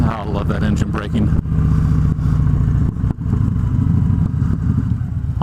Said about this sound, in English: Oh, I love that engine braking.